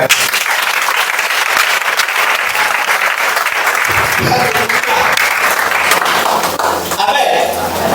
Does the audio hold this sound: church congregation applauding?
yes